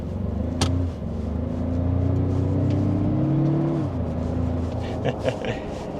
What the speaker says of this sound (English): we'll go back into Sport Plus, give it some throttle.